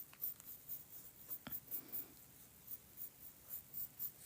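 A pencil scratches on paper in soft, repeated strokes with short pauses, close and faint, while a weekly planner spread is being drawn.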